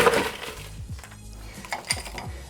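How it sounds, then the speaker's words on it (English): Ice cubes clatter into a cocktail glass while a cherry mojito is built with crushed ice: a few quick clinks and knocks, close and moderately loud, with no one talking. "throw the ice cubes actually in there"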